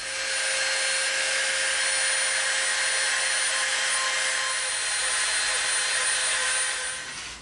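Power tool, such as a rotary sander, rounding off the edges of EVA foam pieces: a steady, loud whining drone with a high tonal whine, running continuously and unchanged for several seconds with no talk.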